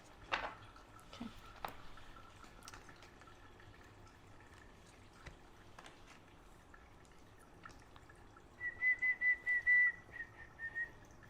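A person whistles faintly near the end in a short run of quick, warbling notes. Before it come quiet scattered clicks and drip-like taps in a quiet room, with no talk.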